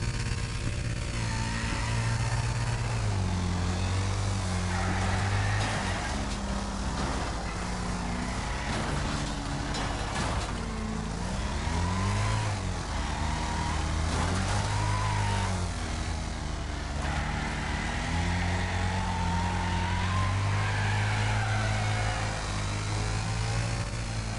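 Several BriSCA V8 Hotstox race car engines roar together at the start of a team race, loud and continuous, with pitches rising and falling as they rev and shift gears.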